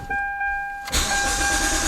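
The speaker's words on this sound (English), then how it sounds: "start the car up, leave the radiator cap off" A 2001 Mitsubishi Eclipse engine cranks and fires up with its radiator cap off, a brief faint tone giving way to a sudden loud, steady idle close by, with no talking.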